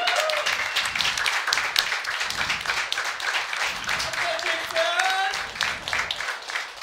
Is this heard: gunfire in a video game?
no